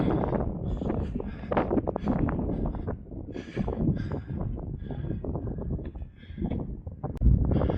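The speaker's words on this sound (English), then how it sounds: "So you probably won't hear a thing I say because it's very windy." Steady wind buffeting the microphone outdoors on the pier at Harlingen by the Wadden Sea, a constant rumbling roar with gusts rising and falling throughout.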